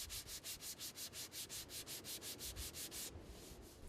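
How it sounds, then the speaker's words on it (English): A sanding machine with 80 grit paper works over an epoxy repair on a GRP boat hull, giving a rapid, regular rasping rhythm of back-and-forth strokes that stop near the end, leaving quieter rubbing. "So I'm going to use a sanding machine with 80 grit paper on here"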